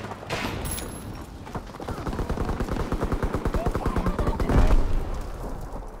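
Rapid automatic gunfire in the World War II shooter Call of Duty: WWII, a long steady burst of evenly spaced shots at close range, ending in a heavier blast amid battlefield noise.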